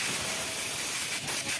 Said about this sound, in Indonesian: Kita semprot dengan angin kompresor